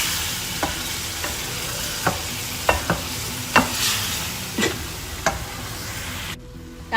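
A spoon stirs green chili, ginger and garlic paste into mutton frying in a karahi, giving a steady sizzle with repeated scraping strokes at an irregular rhythm, close and fairly loud.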